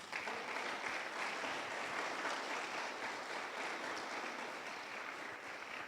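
Congregation applauding steadily at a church worship service, a dense continuous wash of many hands clapping at even loudness throughout, with no voices standing out.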